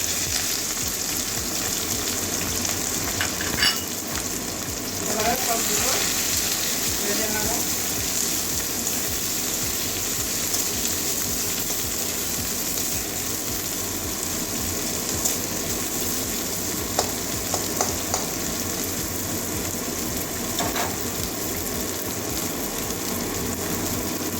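Green chillies and chopped onion fry in a pan for a Malabar spinach curry. A steady, dense sizzle runs throughout, with occasional stirring and faint talk in the background.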